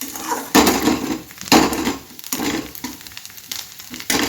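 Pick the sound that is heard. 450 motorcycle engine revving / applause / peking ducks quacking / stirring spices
stirring spices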